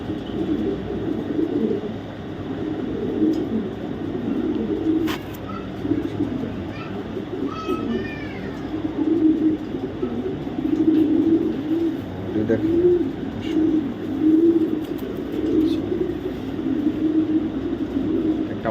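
Low, rumbling pigeon coos repeat throughout, close by, with some background noise and brief faint voices.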